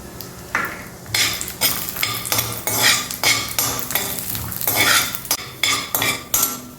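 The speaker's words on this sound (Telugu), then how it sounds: "కొన్ని జీడిపప్పు వేసి వేయించుకుందాం." Cashews fry in a spoonful of ghee in a metal pan, stirred with a spoon in a rhythmic series of loud scraping and clinking strokes over a faint sizzle.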